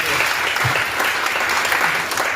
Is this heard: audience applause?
yes